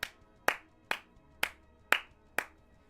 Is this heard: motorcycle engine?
no